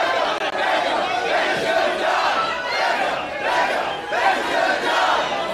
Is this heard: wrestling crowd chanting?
yes